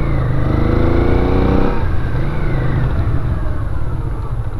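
A restored Honda Ascot motorcycle pulls away and accelerates, its engine note climbing loud and close before a gear change drops the pitch and the engine keeps pulling steadily.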